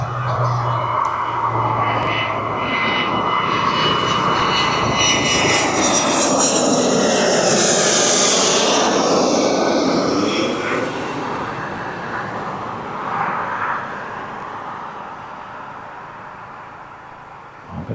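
Mustang aircraft passing at East Midlands Airport, its engine roar swelling loud and close to a broad whooshing peak around midway, then fading gradually into the distance.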